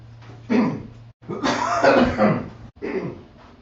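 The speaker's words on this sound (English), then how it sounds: "I've had a chest cough for weeks" Several harsh, throaty chest coughs in quick bursts, close and loud, separated by short pauses.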